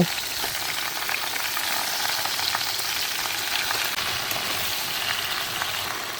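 Raw mango pieces frying in a pan with salt for mango pickle, a continuous dense crackling sizzle with occasional light stirring, close and steady, no talking.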